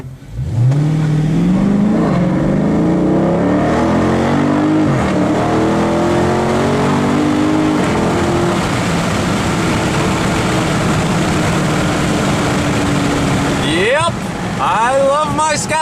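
A Dodge Charger 6.4L Scat Pack fitted with an R2C cold air intake accelerates hard, its V8 climbing through several gears with loud rising engine notes and shift breaks, then settles to a steady cruise and revs briefly again.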